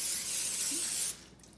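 Cooking spray hisses steadily from an aerosol can into a muffin tin for about a second, close and fairly loud, then stops abruptly, leaving only quiet room noise.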